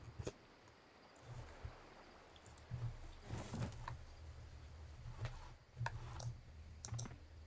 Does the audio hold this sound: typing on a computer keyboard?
yes